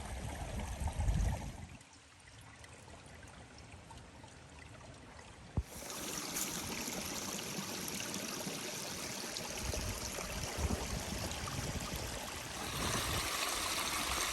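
Mountain spring water in the Appalachians emerging from rocks after running underground, a steady close rushing trickle that drops quieter briefly, then a sharp knock and a fuller, louder flow continuing to the end.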